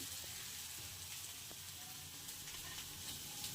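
Eggplant pieces stirred and frying in a pan, with a steady soft sizzle and faint scraping of the spoon running throughout at low level.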